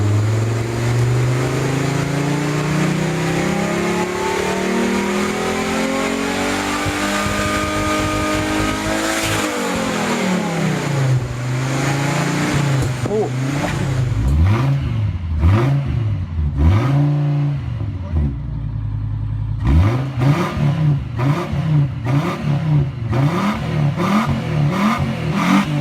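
A Honda inline-five engine in the UA2 Acura 2.5 TL, North American market version, revving loudly and close by, with smooth rising and falling sweeps followed by a series of quick repeated blips.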